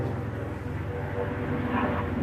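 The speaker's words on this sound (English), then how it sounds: "now we got what? An airplane?" An airplane drones overhead as a steady, loud, broad rumble that holds throughout and swells slightly toward the end.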